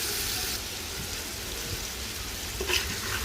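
Chicken and potato pieces fry in a pan over lowered heat, producing a continuous soft sizzle like light rain with a few small pops near the end, and no one talks.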